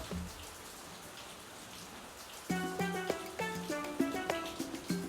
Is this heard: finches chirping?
no